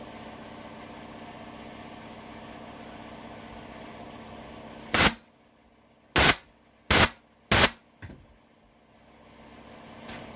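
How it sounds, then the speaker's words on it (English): An air compressor hums steadily in the background while reupholstering a kitchen chair, cut through by four loud, sharp staple-gun bursts in quick succession, after which the drone quiets and slowly builds again. "that's the compressor going on in the background"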